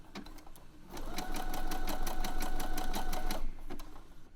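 Sewing machine stitching elastic onto a pair of knickers, a steady rapid mechanical hum and clatter that runs for a few seconds after a couple of brief taps, then stops.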